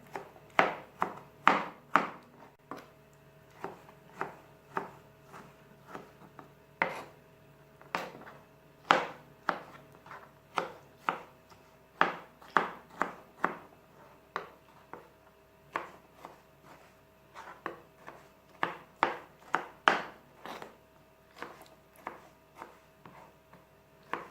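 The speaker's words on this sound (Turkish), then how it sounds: "Kabuklarını soyduğumuz domateslerimizi de küp küp yemeklik şeklinde doğrayalım." Knife chopping peeled tomatoes into cubes on a board, a long series of sharp, close taps in irregular bursts with short pauses, no talking.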